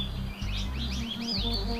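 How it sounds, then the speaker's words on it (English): Small birds chirp and tweet in quick overlapping calls at a wildlife lodge near the entrance, bright and fairly close above a low hum. "guests can expect to be welcomed by a melody of singing birds"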